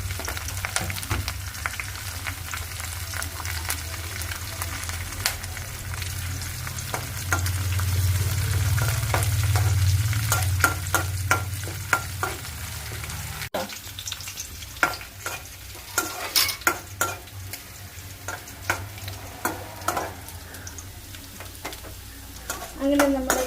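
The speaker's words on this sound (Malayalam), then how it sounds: "അങ്ങനെ നമ്മുടെ കടുക് വറുത്തത് ശരിയായി കഴിഞ്ഞു" Mustard seeds, dried red chillies and curry leaves crackle and fry in hot oil for a Kerala mackerel curry, a dense close sizzle with rapid popping and spoon stirring that grows sparser and sharper toward the end.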